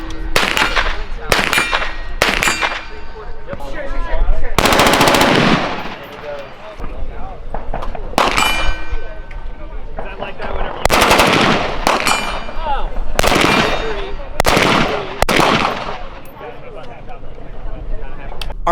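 Gunfire from outdoor shooting ranges at the Kalash Bash AK rifle event, with repeated loud sharp reports and rapid bursts echoing at irregular intervals, some near and some farther off, heard under an ongoing voice talking.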